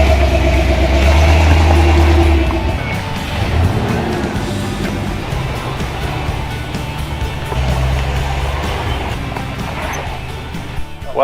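A custom-built Jeep driving on off-road trails, its engine a steady mid-range rumble with bumps and rattles, stronger low idle-like drone at the start, fairly loud and continuous with faint voices mixed in.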